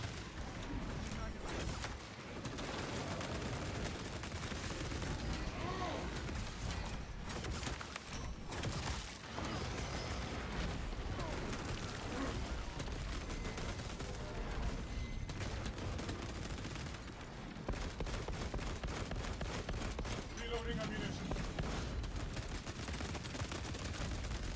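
Sustained heavy bolter fire in a Warhammer 40,000 shooter fight against a Tyranid swarm, steady dense bursts of heavy automatic gunfire running almost the whole time with brief dips, loud and close, while someone talks over it.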